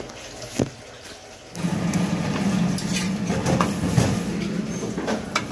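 Frozen aloo paratha fries in a pan, a close, steady hiss that starts abruptly after a quiet moment and continues with faint crackles and the occasional clink.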